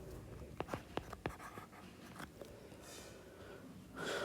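Pen strokes scratch on paper as ordered pairs are written by hand, a few quick, sharp marks followed by softer scribbling, faint and close in a quiet room.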